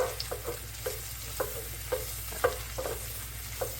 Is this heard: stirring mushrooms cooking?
yes